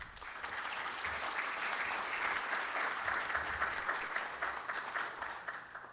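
An audience at an electoral studies congress applauds to welcome a speaker, a dense sustained clapping close and moderately loud for several seconds before tapering off.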